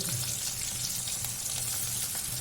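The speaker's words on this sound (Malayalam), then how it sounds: "ചെറിയൊരു കഷ്ണം പുളിയും ചെറുങ്ങനെ ഒരു ബ്രൗൺ നിറാവും നേരെ വറക്കുക" Grated coconut and a small piece of tamarind fry in a pan for a chutney, a steady close sizzle and crackle that continues evenly throughout, with no talking.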